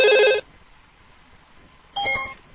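Telephone ringing during a prank phone call recording, two short electronic ring bursts separated by a quiet gap, fairly loud and close with no talk.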